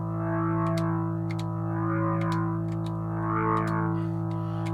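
A single sustained organ-like tone from a Nord keyboard holds steadily with rich harmonics, steady and moderately loud, slight rhythmic shimmer from an effect, no talking.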